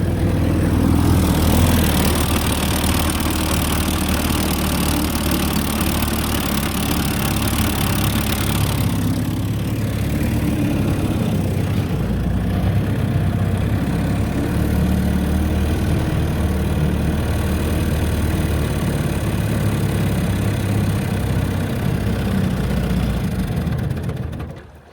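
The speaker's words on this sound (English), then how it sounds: "Idles down okay. Again, these are high compression engines. They'll never idle real low." A 1952 Mercury KG 7 Super 10 high-compression outboard motor idles on a lake, a steady, fairly loud running drone that holds unbroken for about twenty-five seconds before cutting off at the very end.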